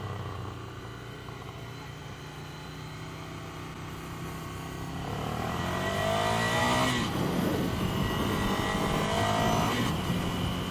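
A Ducati Scrambler motorcycle accelerates at a demo ride event, its engine note climbing through rising revs to a louder, nearer roar, with a gear change partway through.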